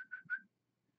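Two short rising whistles from a person calling catfish in the fishing game Fishing Planet, close and fairly clear, followed by silence.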